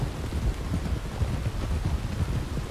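Steady rain falling across open countryside in Red Dead Redemption 2, a continuous low rushing hiss at moderate level with a faint windy rumble and no talking.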